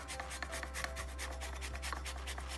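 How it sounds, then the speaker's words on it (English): Lemon rind scraped with a hand zester, working from the base downward: a soft, steady run of raspy rubbing strokes in quick rhythm, close and fairly quiet, with no talking. "I'm going to zest all the way down"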